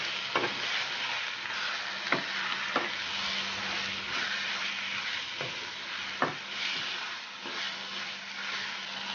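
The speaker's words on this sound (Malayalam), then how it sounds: "ഇനി ഇത് നന്നായിട്ടൊന്ന് മിക്സ് ചെയ്ത് കൊടുക്കാം." Chicken masala sizzles steadily in a pan while a spoon stirs it, scraping and knocking against the pan in occasional sharp taps over the continuous frying hiss.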